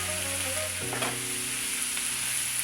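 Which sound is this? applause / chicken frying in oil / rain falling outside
chicken frying in oil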